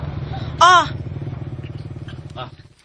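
A motorcycle engine idles steadily close by, its low throbbing rumble running the whole time under people talking, with a brief tonal burst early on.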